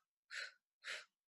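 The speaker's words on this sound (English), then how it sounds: "Inhale 4, 3, 2. Inhale." Two deep, breathy inhales taken during a breathing exercise, each about a quarter second long, close and quiet with silence between them.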